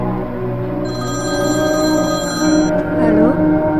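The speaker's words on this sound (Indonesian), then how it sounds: "Catherine, telepon Om Samusir" A telephone rings steadily in a sustained electronic tone while a voice talks over it partway through.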